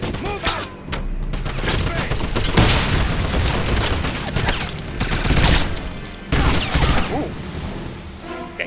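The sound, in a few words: machine gun fire in the video game Wolfenstein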